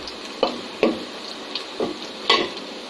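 Food frying in a pan before greens are added, with a continuous sizzle broken by several distinct stirring scrapes and clatters at irregular intervals, close and moderately loud.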